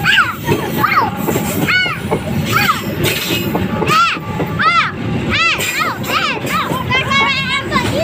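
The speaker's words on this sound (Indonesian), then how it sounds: "Wah, nikung keretanya." The Parahyangan passenger train rounds a curve with a loud, steady rail rumble and wheel noise, heard beneath excited children's voices close by.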